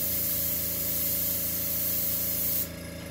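An airbrush sprays paint onto a Suzuki Intruder motorcycle, a steady close hiss of air and paint holding constant over a low compressor hum, then cutting off abruptly near the end.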